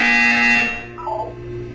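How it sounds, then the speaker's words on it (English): A loud, harsh electronic buzzer from the video game Portal 2 drones steadily for a moment, then cuts off, leaving a quieter mechanical hum with a short warbling tone. "You will hear a buzzer."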